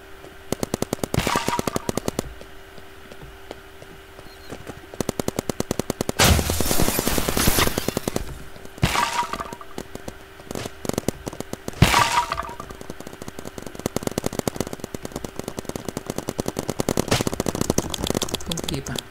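Rapid paintball gunfire in a Roblox paintball game, repeated bursts of quick cracking shots and sharp impact hits throughout, loud and close, with talk over the action.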